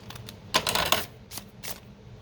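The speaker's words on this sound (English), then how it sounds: "I'm just gonna finish that by trimming this edge" Scissors trimming the edge of Tim Holtz paper scraps, a few quick crisp snips and rustles of paper close by, with quiet gaps between cuts.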